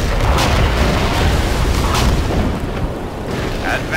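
Abrams tank cannon fire in C&C Generals: Zero Hour, a heavy rumbling boom and dense battle noise running the whole time, loud and close, with faint unit voices in the mix.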